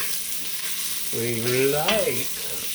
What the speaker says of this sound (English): browning to our smoked sausage